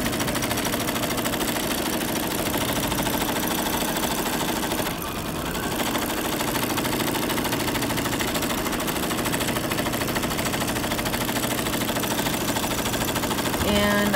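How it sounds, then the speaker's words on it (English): A sewing machine stitches a quilt along a crop circle template with a small foot, a steady close mechanical whirring hum running continuously with one brief pause. "So we're gonna just stitch right in that little groove."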